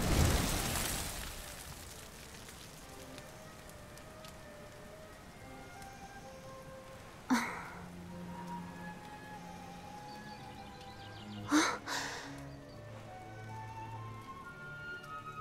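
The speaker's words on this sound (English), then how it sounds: "Looks like the rain's dying down." Steady rain falling in the video game Dragon Quest 11, a soft continuous patter under quiet musical tones, broken by two sharp, brief bursts a few seconds apart.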